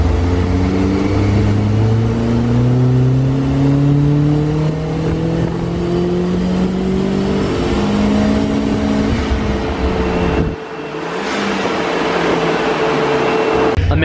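A stripped, lightweight race car revs on a dyno at a tuning day, its loud engine note climbing steadily in pitch, then cutting out briefly and picking up again, close and continuous throughout.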